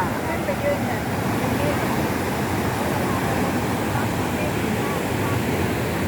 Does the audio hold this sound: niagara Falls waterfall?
yes